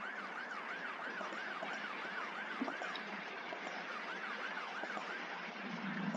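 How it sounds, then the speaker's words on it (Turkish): A police car siren in the Roblox game Brookhaven wails steadily, rising and falling in a fast repeating cycle. It sounds constant and moderately loud, with no voices over it. "Siren falan var."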